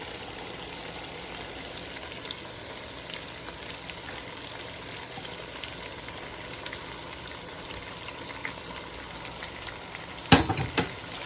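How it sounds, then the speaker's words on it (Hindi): Chicken frying in a pan as fried tomatoes are added, a steady moderate sizzle throughout, followed near the end by a brief sharp clatter of utensil on pan. "अब हम इसके अंदर टमाटर डाल रहे हैं जो हमने अभी फ्राई करके रखे थे।"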